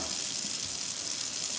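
Tap water runs steadily into a kitchen sink while food is rinsed under it, a continuous close splashing hiss with no talking.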